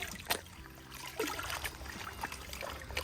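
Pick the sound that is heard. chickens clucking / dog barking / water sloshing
water sloshing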